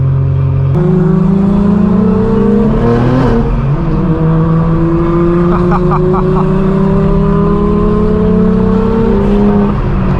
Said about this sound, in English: Both these cars together sound real good.